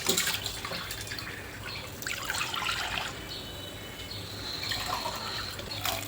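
Water splashes and trickles steadily into a metal wok (kadhai), a close, continuous pouring sound with faint clinks and a low background hum.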